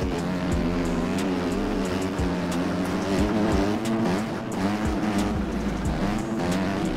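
Several motocross bikes revving together at the start of a race in the game MX Bikes, a dense, loud, continuous engine roar with layered rising and falling tones and no talking.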